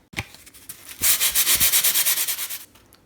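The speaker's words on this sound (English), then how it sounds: "I'm sanding all the pieces with the 240 grit everywhere" Close, rapid scratchy rubbing of 240-grit sandpaper on polystyrene foam, a few short strokes and then a steady rhythmic run of about a dozen quick passes.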